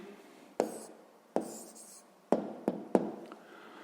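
A pen writes an answer to a sixth-grade maths problem, making about five short scratchy strokes with quiet pauses between them, close and isolated with no voices.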